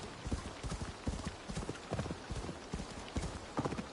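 Hooves clatter in a quick, rhythmic galloping beat as a horse runs in Assassin's Creed Valhalla, close and steady throughout, with a faint voice now and then.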